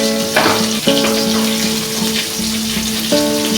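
Dried red chillies and bay leaves frying in oil for meat khichuri, a loud continuous close sizzle with a few scraping stirs and a steady tonal hum in the background.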